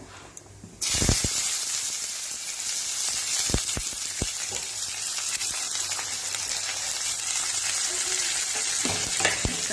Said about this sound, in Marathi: कांदा छान लालसर होईपर्यंत भाजून घ्यायचा